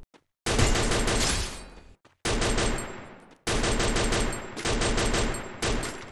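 Rapid automatic gunfire in the mobile shooter Free Fire, with loud sustained bursts separated by brief silences and a headshot landed during the firing.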